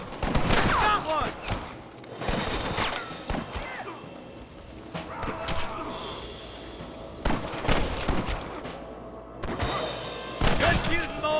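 Gunfire rings out in Red Dead Redemption amid a gang fight, with repeated close rifle and pistol shots over horse hooves, whinnies and shouting voices.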